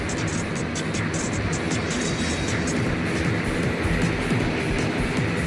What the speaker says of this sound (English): the LCAC transits from sea to shore